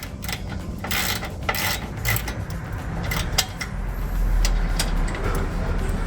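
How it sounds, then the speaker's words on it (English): A hand ratchet loosening an exhaust nut under a 2015-2022 Dodge Challenger 3.6L during a cat-back exhaust install, rapid clicking pawl bursts in short repeated strokes, close and loud against a low garage rumble. "I can use the ratchet."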